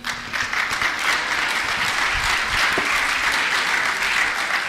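Loud, continuous applause from a sizable crowd, dense clapping sustained at an even level from start to finish.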